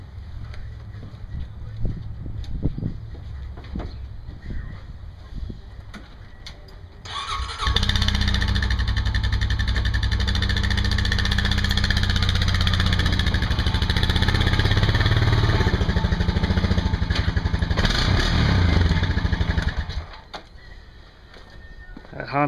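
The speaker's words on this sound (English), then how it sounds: "Honda sounds darn good." A Honda engine cranks and catches at about seven seconds, then runs at a steady, loud, close idle for some twelve seconds before it shuts off. Faint background noise is heard before and after the run, with no speech.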